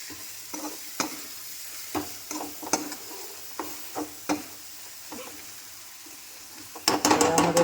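A spoon scrapes and stirs chicken masala gravy with onions in a pan in short separate strokes, with a faint sizzle underneath and a louder burst of clattering stirring at the end.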